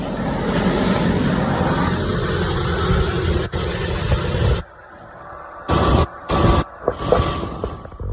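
Engine of a 2000 Chevrolet S-10 with a major oil leak, running as a steady loud broadband rumble for about five seconds, then cutting into short bursts and gaps.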